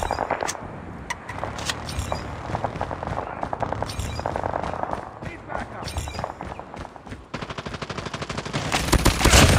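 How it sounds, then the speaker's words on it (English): Automatic sentry gun in the Call of Duty Mobile video game, firing rapid bursts of gunfire with explosions and battle noise throughout, loud and continuous, with game announcer voice lines over the combat. "Sentry gun deployed."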